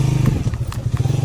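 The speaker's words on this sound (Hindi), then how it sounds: "ओहो, इंजन लग गया नीचे।" A motorcycle's underside scrapes the ground on a rough hill track, giving brief clattering hits over a loud, steady, close engine hum.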